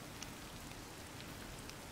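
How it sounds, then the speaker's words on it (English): Steady rain pours in Zelda: Tears of the Kingdom, a continuous hiss of falling drops with a few lighter patters standing out over the wash, and no talking. "But it's raining! Of course it's raining."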